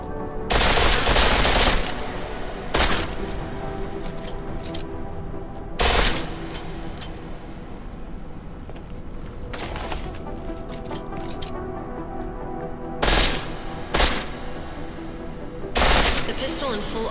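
A pistol fired in full auto in Deus Ex Mankind Divided, several loud close bursts of rapid shots spaced apart, with quieter game ambience between them.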